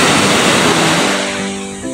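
Sea waves at a beach wash in as a steady broadband roar, near and continuous, with a faint tonal hum entering toward the end and no talk.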